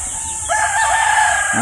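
A battle stag rooster crows loudly and close, one drawn-out cry rising after a short pause and holding steady to the end.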